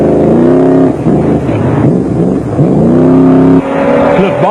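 A Jeep Cherokee rally car is driven hard on a stage of a South African off-road rally, its engine revving loud and close with rising and falling pitch as it climbs through the gears and lifts off between shifts.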